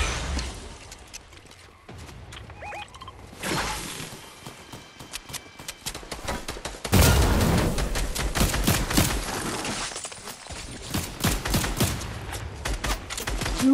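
Rapid bursts of gunfire in a battle royale game, with dense automatic volleys and sharp single shots coming in clusters, loud and close, growing heavier in the second half.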